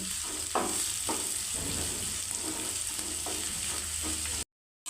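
Onions and green chillies fry with dried shrimp for a tomato curry, a steady close sizzle running throughout while a spoon stirs the pan in several soft scraping strokes, with no talk, before a brief cut to silence at the end.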